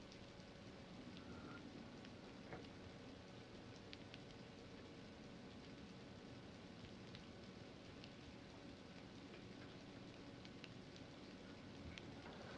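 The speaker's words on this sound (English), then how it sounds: "The rain's going to cover the sound." Steady rain falls throughout a night scene in the horror game White Day on PS4, a constant soft hiss with scattered faint drip-like ticks, low and even in level with no voices.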